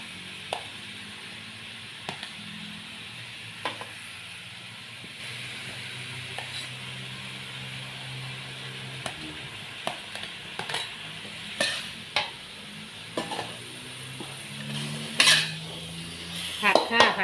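Sweet and sour stir-fry with pineapple, carrots and squash in a pan, a quiet background sizzle broken by repeated sharp clinks and scrapes of a utensil against the pan, with faint speech at times.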